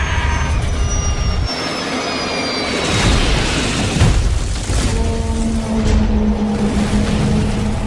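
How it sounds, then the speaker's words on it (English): A Crossair airliner's jet engines roar in a sustained, loud rush with rising whine, building as the plane heads toward a hillside, with a deep rumbling swell near the end and no talking. "Moments later, the aircraft plunges into the hillside."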